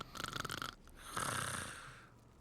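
Loud snoring from sleeping cult-robed figures in the fantasy video game Le Donjon de Naheulbeuk: L'Amulette du Désordre, a rapid rattling snore followed by a longer, smoother drawn-out one, close and alone.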